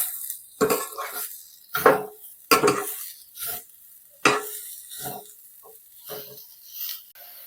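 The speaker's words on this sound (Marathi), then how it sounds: "साखर आपण छान अशी मिक्स करून घ्यायची आहे" Sugar being stirred into a cooked beetroot mixture in a pan, for sweet beetroot modak: a series of separate scraping, clattering stirs of a spoon against the pan, close and fairly loud, with no one talking.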